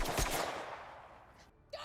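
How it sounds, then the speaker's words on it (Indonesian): A burst of rapid gunfire from a scene in the film The Ice Road rings out loudly and fades into a noisy wash, followed by a short sharp sound near the end. "Dia melepaskan tembakan ke arah Fernie."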